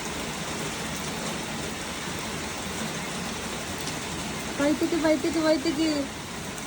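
Steady rain pours down in an even, broadband hiss that fills the whole stretch, while one person speaks briefly over it near the end.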